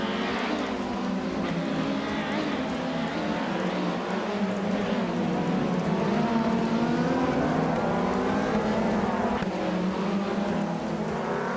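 Race cars accelerate off the start together in a continuous, loud blend of engines revving, with pitches rising and overlapping as the pack pulls away, with no talking over it.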